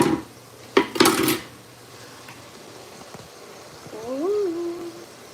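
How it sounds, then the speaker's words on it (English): Dishes, pots and pans clatter in a home kitchen during washing up, with a few sharp clanks close together near the start. Quieter kitchen sounds follow, then a short, gliding tonal squeak. "Gonna wash these dishes."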